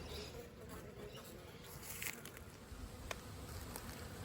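Honey bees hum faintly and steadily around an open Kenyan top-bar hive during an inspection of the comb, a soft continuous buzz with a few light taps and rustles.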